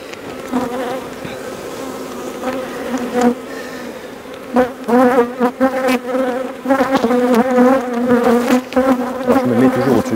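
Honeybees swarm around an open hive while a beekeeper brushes them from a cage, a loud, close, droning buzz with wavering pitch that swells and pulses as individual bees pass near.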